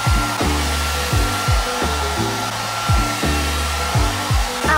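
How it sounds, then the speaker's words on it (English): A loud hair dryer blowing continuously, its whooshing roar shifting in pitch every second or so as it is moved around. "So I'm just gonna use my really bad blow dryer"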